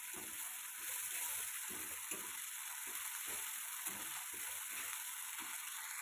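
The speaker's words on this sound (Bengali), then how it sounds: "প্রথমে আমি দিয়ে দিয়েছি পেঁয়াজ, আর তারপরে আমি দিয়ে দিচ্ছি আদা রসুন বাটা, দিয়ে ভালো করে একটু নাড়াচাড়া করে দিতে হবে" Onion and ginger-garlic paste sizzle steadily in oil in a pan while being stirred for a tempu fish curry, a constant close frying hiss overlaid by repeated scraping strokes of the spatula, with no talking.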